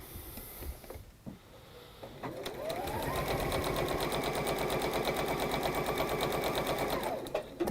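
A sewing machine set to a longer stitch runs a 1/4 inch seam in a workshop, with a steady, even whirring rattle that starts after a few soft handling sounds and holds loud and constant for several seconds before stopping.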